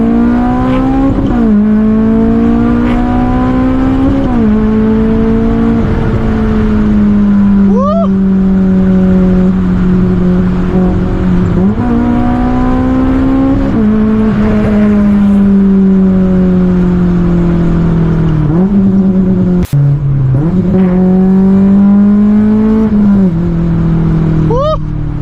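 Straight-piped Honda S2000 with a fully custom exhaust, driven hard and loud from inside the car, its engine note rising and falling through repeated gear changes with a rattling hanger.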